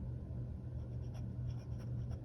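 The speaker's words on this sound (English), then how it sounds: "I can certainly write in my workouts here" A fountain pen scratches across paper in a Hobonichi Weeks planner, a soft steady scribble with faint strokes over a low room rumble, close and quiet with no talking.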